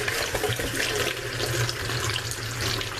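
Cool water running from a tap into a bowl, a steady close splashing rush that fills the whole stretch without pause.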